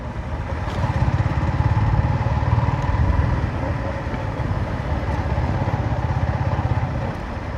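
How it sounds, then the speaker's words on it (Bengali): A Yamaha MT-15 motorcycle engine runs close by, a loud steady low throb that eases slightly toward the end as it settles near idle, with no talk. "সো ফাইনালি আমার জায়গাতে আমার বাইক চলে এসছে"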